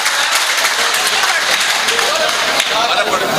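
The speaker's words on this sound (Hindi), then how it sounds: "एक बार जोरदार तालियां हो जाएं आपकी" Audience applause at a Hindi-Urdu poetry mushaira, a dense, steady wash of clapping from a large crowd with some voices mixed in.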